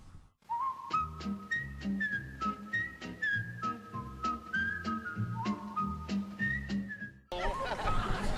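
A bright, melodic whistled tune plays alone, jaunty notes in a steady rhythm, followed by a brief burst of noisy chatter at the end.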